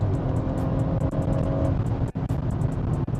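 A BMW 140i's engine drones loud and steady in Sport Plus mode, with brief sharp dips around the gear changes as it pulls on, heard up close from inside the car.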